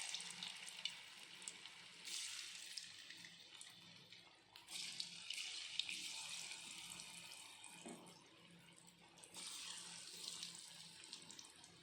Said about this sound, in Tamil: காலிஃப்ளவரை ஒவ்வொன்றா எண்ணெயில் இறக்கிடலாம்.